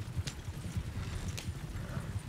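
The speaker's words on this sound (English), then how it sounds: "Maybe a horse crossing." Horse hooves clop in a video game in a steady, even rhythm of repeated soft thuds at moderate volume, with no talk over them.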